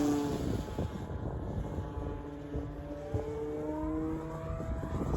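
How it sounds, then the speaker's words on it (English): A Hangar 9 10cc J-3 Cub RC plane flying in wind at full throttle, its small engine droning steadily with shifting pitch as it passes, heard from a distance outdoors without speech. "Still at full throttle here."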